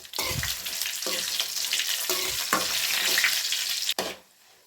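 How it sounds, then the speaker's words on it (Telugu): Dried red chillies fry in hot oil with cumin for gongura pickle, a loud close sizzle with repeated stirring scrapes, cutting off sharply near the end to near silence. "ఎండుమిర్చి వేసుకొని ఇప్పుడు బాగా ఫ్రై చేసుకోవాలి."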